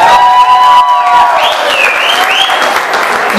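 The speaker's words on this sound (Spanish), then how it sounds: "¡Fuerte el aplauso, por supuesto!" A crowd claps and cheers loudly at a band's first CD launch, a dense, sustained burst of applause with whistles and shouts rising over it.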